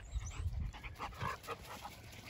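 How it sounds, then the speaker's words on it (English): Black German Shepherd puppies whimper and pant close by, with soft breathy panting and small whines in quick, uneven bursts that stay fairly quiet. "Black German Shepherd puppies."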